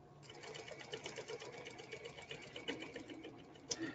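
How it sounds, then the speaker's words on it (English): A sewing machine stitches fabric at a steady, rapid mechanical rhythm, running quietly and close with a faint motor hum underneath and no talking. "the sewing machine is laying them down pretty well"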